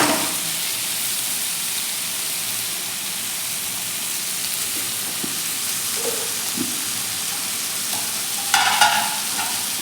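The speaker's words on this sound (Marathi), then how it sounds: "मीठ आणि मसाले यामध्ये हा बटाटा छान असा आपला परतून घेऊया" Potatoes sautéing with salt and spices for a dry Marathi potato bhaji, a quiet steady sizzle with a few light stirring knocks and a brief louder clatter near the end.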